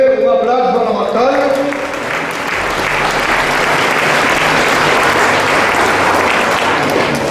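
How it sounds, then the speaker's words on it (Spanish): Steady applause from a congregation during a Sunday Mass in a parish church, broad and continuous throughout after a brief opening of voices. "Aquí viene un aplauso a Amatal."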